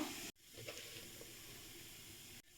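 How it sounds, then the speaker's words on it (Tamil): Mustard seeds, urad dal and cumin sizzle and crackle in hot oil in a home kitchen, a steady broadband frying hiss with a few soft pops. It runs alone between two brief cuts of silence. "நமக்கு எண்ணெய் நல்லா ஹீட் ஆயிடுச்சு இப்போ நம்ம கடுகு சேர்த்துக்கலாம் உளுந்தம்பருப்பு சேர்த்துக்கலாம் சீரகம் சேர்த்துக்கலாம்"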